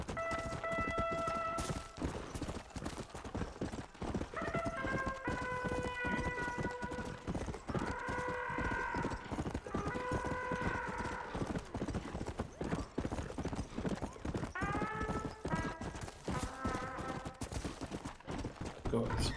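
A horse gallops in the video game Red Dead Redemption: Undead Nightmare, with rapid, continuous hoofbeats throughout under a layer of tonal, voice-like or musical sound.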